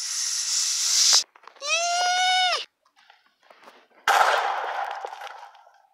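A Minecraft creeper mob explodes: a hissing burst, then a bleating animal call and faint clatter, then a loud, noisy blast that slowly fades away.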